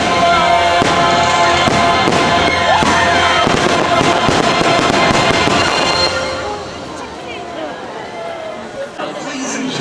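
Dense, rapid fireworks explosions at Tokyo Disney crackle and boom continuously, loud and close, then thin out into scattered pops while a crowd chatters underneath.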